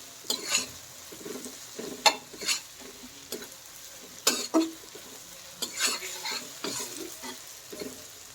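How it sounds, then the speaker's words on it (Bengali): Onions and chili fry in oil, a low sizzle broken by repeated scraping strokes of a spoon stirring the pan, close and fairly quiet, with no talking. "এখন পেঁয়াজ আর মরিচটা আমি তেলের সাথে খুব ভালোভাবে ভেবে"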